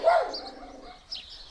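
Dogs in a neighbouring village yard let out a couple of short barks at moderate distance, a louder burst followed by a fainter one, with no talk over them.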